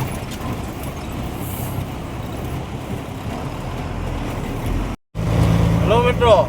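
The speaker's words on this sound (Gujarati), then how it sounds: "આપણે ગાડીઓ ભરીને બહાર નીકળી ગયા છે" Trucks loaded with coal, heading from Chennai to Bhavnagar, roll out with a steady engine and road rumble. A short break interrupts it, and a voice speaks briefly over the noise at the end.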